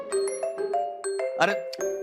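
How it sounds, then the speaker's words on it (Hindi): An electronic phone ringtone plays a repeating chiming melody, bright and fairly loud, with a brief burst of other noise partway through. "अरे भाई फोन उठा लो बेगम, बज बज के बावला हो गया है।"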